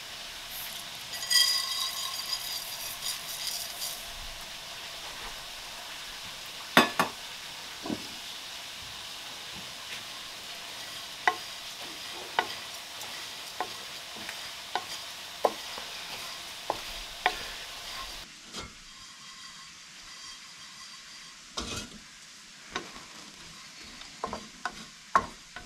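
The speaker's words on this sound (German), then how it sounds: "erhitze ich eine Pfanne ohne Öl und röste darin kurz 100 Gramm gehackte Haselnüsse an" Chopped hazelnuts roast in a dry, oil-free pan, giving a soft sizzle while a utensil scrapes and stirs them in scattered sharp clicks and scrapes. The pan noise drops away partway through, leaving quieter stirring taps.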